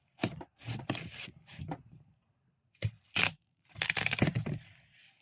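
A 3.25 kg Moon and Stars Red watermelon cracks open under the knife in a series of close, crisp crunching and splitting bursts separated by short pauses, ending in a longer run of cracking.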